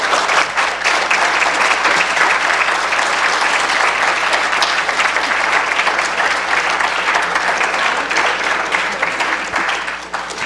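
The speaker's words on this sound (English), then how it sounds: "If we give everyone a big round of applause." Steady, loud audience applause fills a candidate forum evening, dense clapping sustained throughout with no speech over it.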